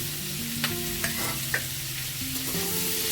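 Onion and tomato frying in a pan, a steady close sizzle with soft stirring scrapes and a few light spoon taps, under background music.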